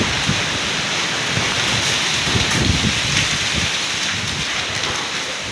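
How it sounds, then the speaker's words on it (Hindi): Steady heavy rain pours down with a dense, hissing patter on surfaces, constant and fairly loud, no voices. "बारिश"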